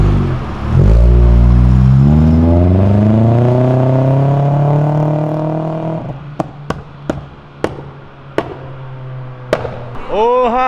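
A Chevrolet Camaro engine revs hard, its loud roar climbing steadily in pitch, then drops to a rumbling idle broken by a string of sharp, cracking pops.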